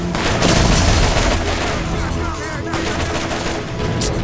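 Dense, loud gunfire in the shooter game Borderlands rattles continuously in rapid automatic bursts with booming impacts, sustained without pause.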